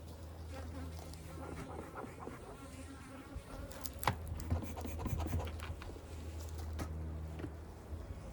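Small cell honeybees in a Texas beekeeping hive buzzing at the entrance, agitated and quick, with a steady low drone from many bees close by and occasional handling scratches.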